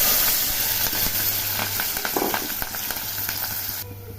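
Small onions, coriander leaves and green chillies fry in hot oil for a bean and prawn curry, giving a steady, close sizzle with a faint low hum beneath and no talking.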